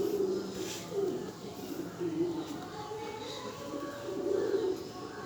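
Pigeons coo in soft, repeated low calls under a steady background hum, with a person talking over them throughout.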